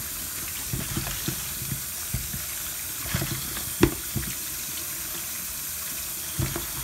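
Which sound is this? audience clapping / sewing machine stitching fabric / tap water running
tap water running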